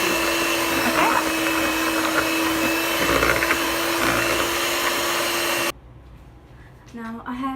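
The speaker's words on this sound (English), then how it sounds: "Beat your mixture until you get the ribbon consistency" An electric mixer beats cake batter for a butter chocolate cake with a loud, steady whir that cuts off abruptly near the end, followed by a brief voice.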